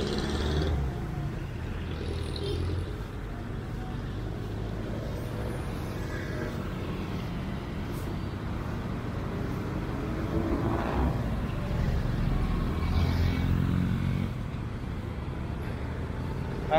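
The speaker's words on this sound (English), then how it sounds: "So there's a congestion with the traffic." Steady low rumble of road traffic congested at a busy junction, engines idling and crawling nearby without distinct passes, heard continuously on a leisurely walk outdoors.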